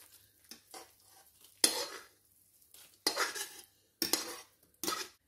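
Spoon scraping and clattering against a metal pan as freshly cooked paneer kalakand is shifted into a tin, in several short distinct bursts separated by brief pauses.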